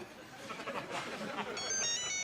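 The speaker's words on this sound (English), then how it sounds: "Oh, it is the phone again. Phones ring, don't they?" A telephone begins ringing near the end with a bright, repeating electronic tone, after a stretch of indistinct talking in a room.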